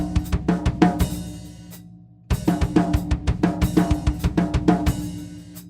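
Rapid single drum hits roll in a quick linear pattern starting with a kick, pause briefly, then a second fast fill runs through, close and punchy.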